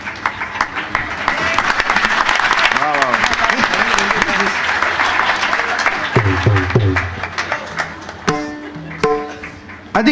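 Loud applause for musicians at a live concert swells in a thick wash of clapping, with voices and cheering mixed in, then thins as a voice speaks and a few tonal sounds come through.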